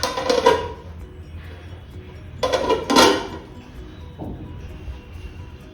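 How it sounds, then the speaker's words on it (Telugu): Metal lid set onto a cooking pot of boiling water for vegetable cashew upma: two bright clattering clanks with rattling, the second a double hit, followed by a softer knock, close over steady kitchen hiss. "మూత పెట్టేస్తున్నాను."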